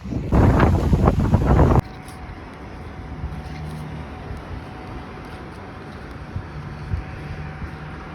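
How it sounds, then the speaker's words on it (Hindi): Strong gusty wind buffets the microphone outdoors, loud and roaring at first, then settling into a steadier, quieter rush that could be wind moving through trees. "ज़बरदस्त हवा चल रही है भाई। सारे दरख्त हिल रहे हैं हवा से।"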